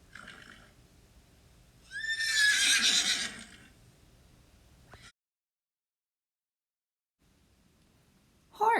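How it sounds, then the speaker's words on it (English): A horse gives one loud, close whinny lasting about a second with a rising, wavering pitch. Softer rustling comes before it, then silence. "I hear a horse."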